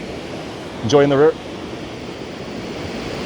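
Creek water rushes near Choke Creek Falls in Pinchot State Forest, Pennsylvania, a steady broadband wash filling the whole clip, loud and close, with a single brief word spoken over it.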